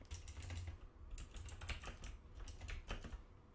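Rapid, quiet keystrokes on a computer keyboard as code is typed for a Java programming lesson, an irregular stream of close clicks with no voice.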